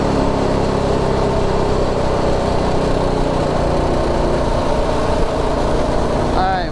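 Predator 212 Ghost small engine on a go-kart or minibike revving hard and holding near its rev limiter, a loud steady drone with harmonic bands, recorded close with wind rush throughout.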